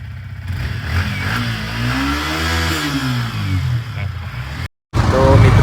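A nearby motorcycle engine idles and revs up and down in a rising-then-falling sweep, loud and close, with a brief cut near the end.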